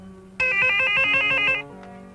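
A telephone rings once in a single electronic trilling burst of about a second, loud and close, with no talk over it.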